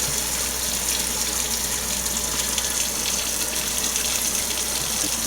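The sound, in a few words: water filling a jar and swirling to rinse sprouting seeds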